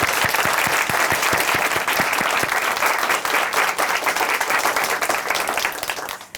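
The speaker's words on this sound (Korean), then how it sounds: "우리 이태원 자매님의 앞날도 박수로 함께 응원해 드리도록 하겠습니다" Sustained audience applause in a church hall, dense and loud throughout, with sharp individual claps standing out near the start before the ovation tapers off at the end.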